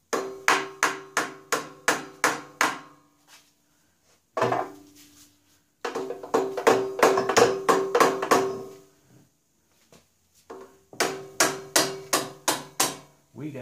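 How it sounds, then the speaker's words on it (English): A plastic hammer taps a carburetor on a Honda EB5000 generator with an 11 HP Honda engine, sounding as sharp, close, rapid knocks in several bursts of about five to eight strikes each, with short pauses between the bursts. "Might have to tap on it with a hammer."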